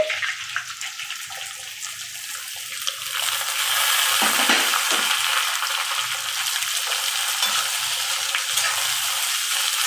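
Curry leaves, sliced onions and green chillies frying in oil in a pan for tomato curry, a steady hissing sizzle that grows louder partway through and continues with no talking.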